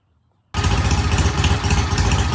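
After a moment of quiet, a vintage British motorcycle engine catches and settles into a loud, steady, lumpy idle with rhythmic mechanical clatter, close by.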